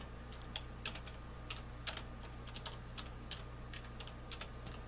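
Keys clack on a computer keyboard while a Windows XP Service Pack 3 search is typed: irregular quick bursts of soft, close taps over a steady low hum, with no one speaking.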